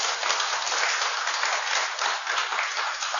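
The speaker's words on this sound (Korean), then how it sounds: "우리가 큰 박수를 한번 보내주시기 바랍니다" A church congregation at a large worship service breaks into dense, even applause, many hands clapping close together in a continuous, fairly loud burst with no voices over it.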